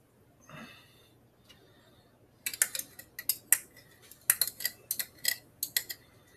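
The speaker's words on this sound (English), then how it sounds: "We'll dump in our yogurt first." Yogurt is dumped into a measuring bowl for homemade naan dough: after a quiet pause, a spoon clinks and scrapes in quick, irregular bursts against the container and bowl, close by with no talk.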